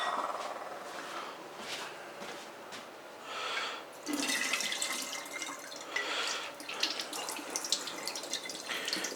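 Water runs and splashes into a kitchen sink while grains are strained, starting softer then rising to a fuller gushing stream with drips and clatter, close by and without any talk.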